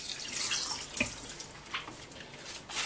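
Cold tap water runs steadily into a kitchen sink while fresh-frozen mackerel is rinsed, a close, continuous splashing hiss with a few sharper splashes and no talk.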